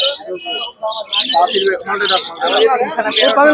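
Cockatiels, including lutino and pearl birds, calling at a busy bird and pet market in Serampore, with chirps and whistles scattered over steady crowd babble and people talking nearby.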